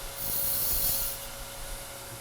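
A turning tool rides the bevel as it cuts wood on a lathe for a lidded box, giving a steady hissing, rasping shear that swells for about a second and then eases to a softer whir.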